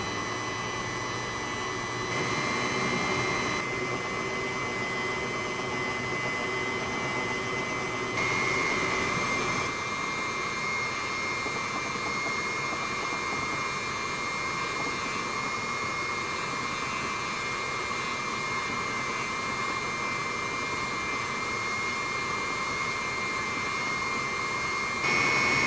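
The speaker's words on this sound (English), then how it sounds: "I'm going to see if I can polish the pivot by using a Dremel with with some mag polish" A Dremel rotary tool whirs steadily while polishing the pivot of a Benchmade 810 Contego knife with Mag polish, a continuous high-pitched motor whine with a slight shift in tone partway through, close and unbroken with no talk.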